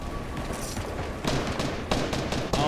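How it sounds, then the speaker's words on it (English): Gunfire during a Fortnite match, heard as bursts of shots that grow louder around the midpoint and come back in repeated volleys at a middling distance. "Oh no, there's some shooting going on."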